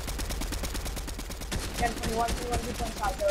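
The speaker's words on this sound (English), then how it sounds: "we're being shot at" A Fortnite firefight produces quick rhythmic shots in rapid succession, moderately loud, with a voice briefly heard alongside.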